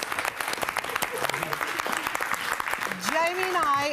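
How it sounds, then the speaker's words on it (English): An audience claps steadily for the cast of Rocky Horror, a dense, fairly close applause running throughout, with a voice speaking over it and rising in pitch in the final second. "Applause, applause,"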